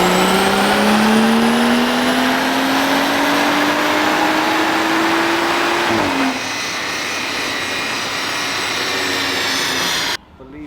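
A BMW M140i revs hard on a dynamometer during a power run: a loud engine note climbs steadily through the gears for about six seconds, then drops abruptly to a lower roar before cutting off near the end.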